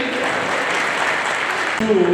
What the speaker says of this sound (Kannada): ಒಂದು ಜೋರಾದ ಚಪ್ಪಾಳೆ ಇರಲಿ